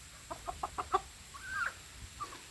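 Roosters cluck close by, a run of five quick clucks followed by a drawn-out call and a softer final note, with no talk.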